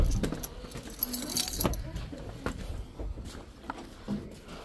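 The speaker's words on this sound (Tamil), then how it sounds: "சாவி தான் இருக்கு." A bunch of keys jangles and clinks in a series of bright metallic rattles while a house door is being unlocked, close by and fairly loud, with faint background noise and no speech.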